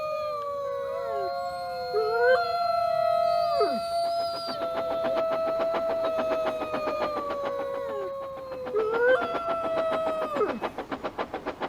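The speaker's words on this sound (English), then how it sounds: "The Weretruck howled and growled." A wolf-like howl from the transformed weretruck rises and bends in long wavering tones, layered with a rumbling engine-like growl that pulses beneath, then a second howl swells near the end before a chugging rhythmic fade.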